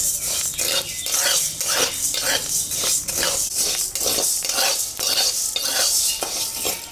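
Rice being dry-fried with curry leaves in a pan, stirred in a regular scraping rhythm of about two strokes per second, with light sizzling and rattling grains, close and fairly loud, no speech.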